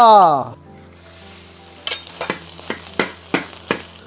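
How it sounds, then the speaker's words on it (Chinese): Egg fried rice being stir-fried in a lightly oiled hot wok: a steady sizzle with sharp, rhythmic spatula knocks against the pan, roughly one every half second, close and clear after a brief tonal sound at the start. "我们把拌好的米饭放上去，给它煸炒一下"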